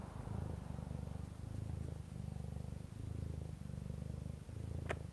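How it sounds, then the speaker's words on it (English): Close, rhythmic cat purring in steady cycles, soft and continuous, with a brief high sound near the end. "Can you hear her purring?"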